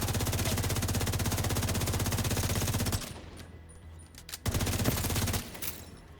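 Rapid automatic gunfire in a first-person shooter match with C4 plants, a dense, loud stream of shots for three seconds, a short lull, then another burst of fire, with no talking over it.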